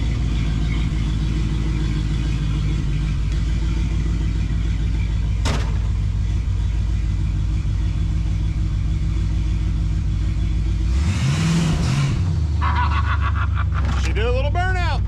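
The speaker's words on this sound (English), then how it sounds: "She did a little burnout." A car engine roars through a short burnout: a steady loud rumble, then a sharp rev and tire squeal near the end, with voices talking over it.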